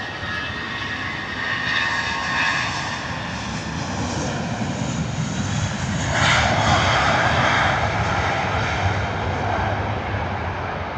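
A British Airways Airbus A320 taxis at Heathrow toward runway 27 right, its jet engines a steady, loud roar that swells slightly as it nears, heard alone without talk.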